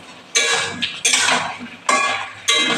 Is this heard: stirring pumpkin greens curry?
yes